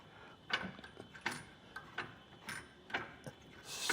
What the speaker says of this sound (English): To open the EXO system, we're going to twist this knob that's back here